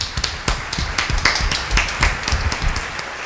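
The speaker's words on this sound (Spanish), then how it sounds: "Un fuerte aplauso para él," A small group applauding at a Valentine's Day serenade event, quick uneven claps close to the microphone, fairly loud and steady for a few seconds with no talking.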